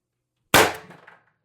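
One loud, close report from an Umarex TR50 air rifle fitted with a tuning barrel, shooting a Vindicator pellet, followed by a brief metallic ring fading out in silence.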